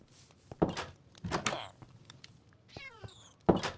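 A cat gets hurt in the Minecraft video game, with a short high meow-like yelp amid scattered game thumps and blips, quick and close, and a voice briefly heard in the background.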